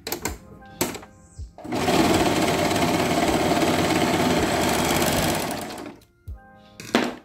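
A sewing machine stitches fabric pieces of a child's underwear, first in two short bursts and then in a long, steady, loud run of rapid needle hum before stopping, with another brief burst at the end.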